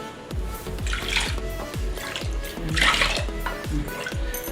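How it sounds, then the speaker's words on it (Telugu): Water splashes and pours onto washed toor dal (pigeon pea lentils) in a container in a series of quick gurgling bursts, close and fairly loud. "ఒక కప్పుకి 3 కప్పుల వాటర్ పోసుకోవాలి"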